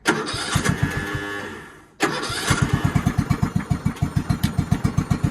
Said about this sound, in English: mine just tried to fire, and we might need to do this a couple of times to get it running